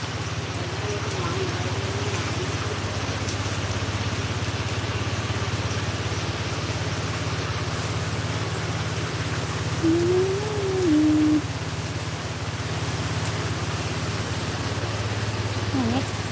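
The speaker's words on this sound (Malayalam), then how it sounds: "കുറേ സമയമായി വണ്ടി സ്റ്റാർട്ട് ആവുന്നു" A parked vehicle's engine runs at idle, a steady low drone under constant heavy rain noise, with a brief voice sounding partway through.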